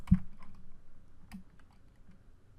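A few keystrokes on a computer keyboard while a server is being set up on Windows, with one sharp click at the start and another near the middle, then quiet, close clicking. No one speaks.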